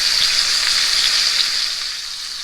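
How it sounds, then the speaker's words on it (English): Pot roast meat searing in a hot pan gives off a loud, steady, close sizzle that holds unbroken throughout, with no voices. "We're going to sear this meat 5 minutes on each side."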